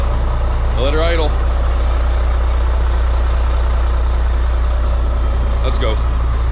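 A CAT C12 big rig diesel engine idles steadily up close with a constant low rumble, while a voice briefly chirps over it near the start and again near the end.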